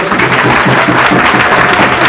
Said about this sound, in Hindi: बहुत ज़ोरदार स्वागत करें तालियों